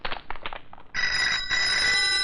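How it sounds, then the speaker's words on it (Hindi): A telephone bell in a 1991 Hindi film scene starts ringing loudly and steadily after a second of scattered clatter, then keeps on. "निकलते वक्त फोन की घंटी"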